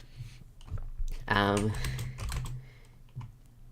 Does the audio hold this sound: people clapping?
no